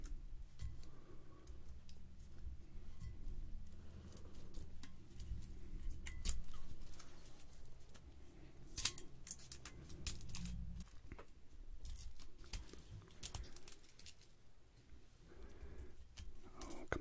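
Metal foil capsule being picked at and peeled from the neck of a Shieldaig 25 year old whisky bottle, heard as close, crinkly ticks, scratches and tearing, irregular and fairly quiet, with low murmured sound in between.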